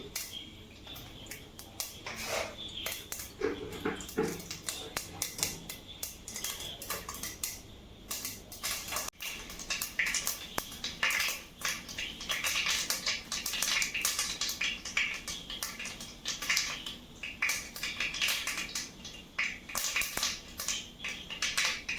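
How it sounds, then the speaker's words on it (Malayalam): Mustard seeds pop and spit in hot oil at the start of a Kerala-style beef fry, a dense, continuous crackle of sharp little snaps that runs steadily and fairly close throughout. "കടുക് പൊട്ടി"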